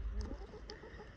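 Backyard chickens clucking close by, a couple of short bright clucks over low murmuring fowl sounds, no talking.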